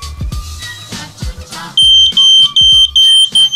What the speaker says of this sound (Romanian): Dacă nu dă doamne se întâmplă vreun incendiu, avem senzorul de fum. Acesta va bate alarmă și cu sunet și în aplicația telefonului.